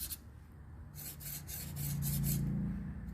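A black marker scrubs back and forth over a styrofoam printing plate, producing quiet, rhythmic rubbing strokes in short repeated bursts, close and faint.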